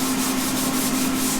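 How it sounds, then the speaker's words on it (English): Hand sanding of a diesel engine oil pan, a steady rhythmic scrubbing rasp with regular strokes, close and alone with no voices. "Just sanding by hand, put a little red primer on it."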